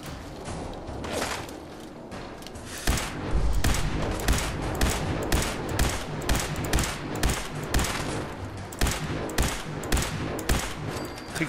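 Automatic gunfire in Fallout 4: Far Harbor, loud repeated bursts at a steady, pulsing rhythm, with thudding impacts and near-continuous firing throughout.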